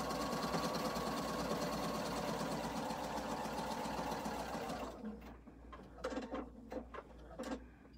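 Sewing machine stitching a quilt-as-you-go Christmas stocking: a steady, loud mechanical whir runs for about five seconds, then stops and leaves scattered light handling clicks and rustles.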